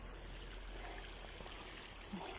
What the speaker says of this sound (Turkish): şöyle patatesten sulanıyor maydanozdan sulanıyor